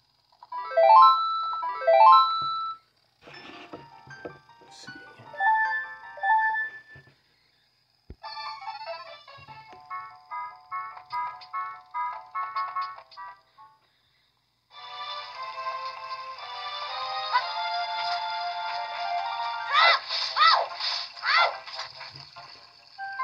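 Nintendo 64 music from The Legend of Zelda plays through a Nintendo 64 modded into a Sega Game Gear: thin, bright melodic game tones and chimes in bursts separated by short silences, ending with a denser passage.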